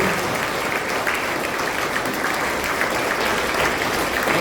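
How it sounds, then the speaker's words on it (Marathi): Students in a class applaud loudly, a dense, steady roar of clapping that holds evenly throughout with no voices over it. "जरा जोरदार एकदा टाळ्या होऊ दे"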